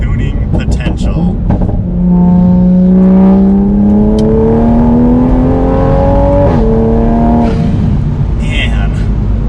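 A tuned A90 Toyota Supra making about 450 wheel horsepower accelerates hard, its engine note climbing steadily through a long pull before shifting, heard loud from inside the cabin with a person talking over it.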